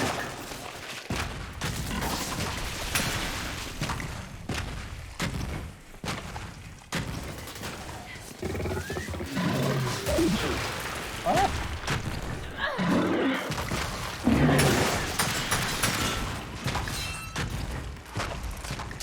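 A nail gun fires repeatedly during Gears of War 5 gameplay, with sharp, heavy bursts amid thumps and rumbling battle noise, while voices talk over the action.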